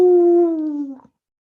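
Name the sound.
person imitating a dog barking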